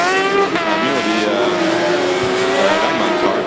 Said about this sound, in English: car is just coming around the corner into the slingshot now onto the straight, finishing the last couple of turns